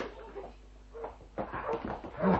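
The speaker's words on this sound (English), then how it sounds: "My God, the dog's got loose." A dog loose in a radio drama scene, with yips and whimpering mixed with scuffling and door-like knocks, growing busier and louder toward the end.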